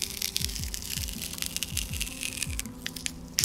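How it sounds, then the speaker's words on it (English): The ultra-thin glass layer of a Samsung Galaxy Z Flip screen cracks as the plastic film over it is peeled away, giving close, irregular crackling and crunching ticks that run steadily throughout. "while doing so you could hear the very thin glass shattering"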